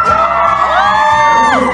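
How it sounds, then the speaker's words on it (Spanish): Concert crowd answering a singer's call with sustained high shouts and whoops, many voices overlapping loudly and continuously close to the microphone. "¿Me regalas otro grito?"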